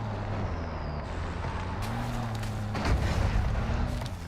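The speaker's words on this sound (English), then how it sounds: "The truck's too loud." A truck drives in the Call of Duty DMZ video game, its engine droning steadily at a low pitch, with a sharp burst of in-game noise partway through.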